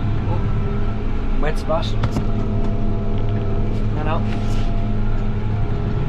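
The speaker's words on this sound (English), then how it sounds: "I probably have slightly too big a tractor on a 5-furrow plow" Tractor pulling a 5-furrow plow through grassy ground drones loud and steady at close range throughout, a continuous heavy engine rumble with someone speaking briefly over it.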